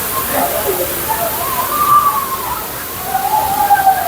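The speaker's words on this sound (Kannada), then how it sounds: "ಫಾಲ್ಸ್ ನೋಡ್ಬೋದು, ತುಂಬ ಚೆನ್ನಾಗಿದೆ." Water pours at Thirparappu waterfall on the Tamil Nadu–Kerala border, a steady, fairly loud rushing wash that runs the whole time, with crowd voices faintly audible beneath it.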